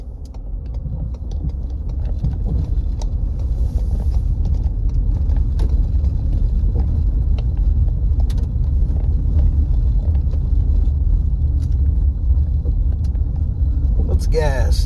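A car driving slowly over a bumpy rural road in a small East Texas town, heard from inside as a steady low rumble with constant road noise and faint rattles, close and continuous throughout.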